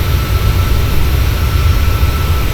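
Boeing 737 jet engines in a flight simulator during an in-flight emergency near Seattle, a loud, steady roar with a deep low rumble and broadband whine, continuous and unbroken with no voices.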